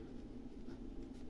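Marker or chalk scratches across a board during a maths lesson, a faint, close, continuous rubbing texture lasting about a second.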